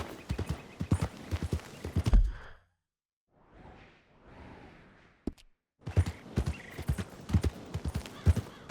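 Horse hooves clip-clopping in Red Dead Redemption 2, brisk rhythmic hoofbeats in two stretches separated by a quiet gap with soft breathy snorts, close and clear.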